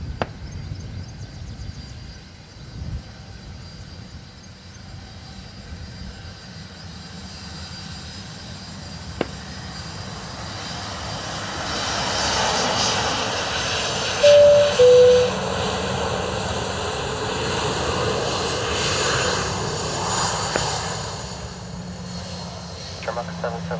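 Aircraft engines roar at Dublin Airport as jets take off, a broad rumble building from about twelve seconds and holding loud and steady to the end over constant background noise.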